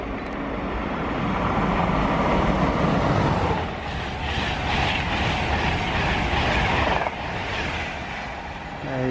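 An LNER Azuma train rushes through Hitchin station at speed, a loud, close rumble and rail clatter that swells and holds for several seconds before easing off.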